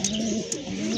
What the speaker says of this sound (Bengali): দেখতে পাচ্ছেন আর এক জোড়া কবুতর, অসম্ভব সুন্দর কবুতর দেখার মতো